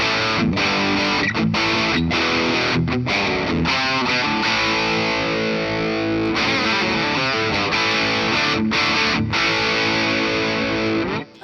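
A Gibson Chet Atkins guitar played through distortion rings out in loud, sustained overdriven chords and riffs with brief breaks, alone with no talk.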